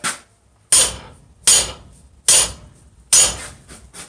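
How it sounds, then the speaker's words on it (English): A 3-pound hammer strikes hot metal at a forge five times in an even, spaced rhythm, each blow a sharp, loud ringing clang that decays quickly, close up with no talking. "now I'll hammer"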